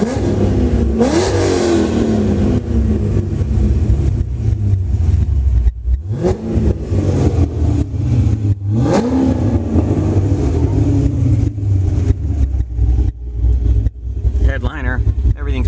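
A modified 2009 Corvette Z06 V8 with ported heads and an aggressive cam revving hard several times, loud close blips rising and falling over a choppy idle, with someone talking between and over the revs.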